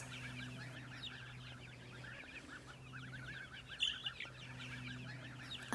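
Mother hens with their chicks cluck softly and repeatedly in a coop, with faint high peeping chirps over a low steady hum.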